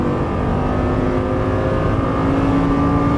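A Lamborghini Gallardo LP550-2 on a racetrack pulls at full throttle, its engine holding a loud, steady, close drone with a gently rising pitch and no break for shifts across the whole stretch.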